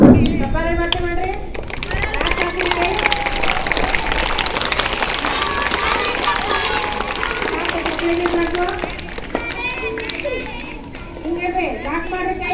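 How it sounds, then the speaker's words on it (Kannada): Children clapping their hands together at an event in a school courtyard, with bursts of applause amid lively chatter and calls from many young voices, busy and close throughout. "ಚಪ್ಪಾಳೆ ಮತ್ತೆ ಮಾಡ್ರಿ."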